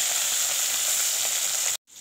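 Fish fries in very hot oil, a loud, close, bright crackling hiss that holds steady before cutting off abruptly near the end.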